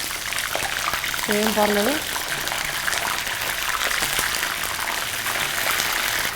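Wet eggplants that have just come out of water sizzle and spit in hot frying oil, a loud, continuous hiss that carries through the whole stretch while a voice speaks briefly.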